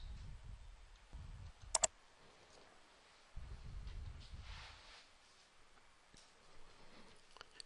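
A computer mouse clicked twice in quick succession, sharp and faint against a quiet room.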